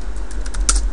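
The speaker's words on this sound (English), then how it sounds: "Now type in your password." A computer keyboard is being typed on to enter a router password, giving a quick run of several light, close key clicks within one second, the last stroke the loudest.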